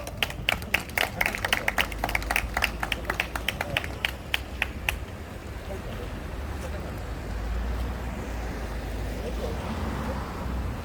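Scattered claps from a small outdoor audience at a residents' committee meeting, a few seconds of uneven, fairly close hand claps that thin out and stop, leaving a low steady background rumble.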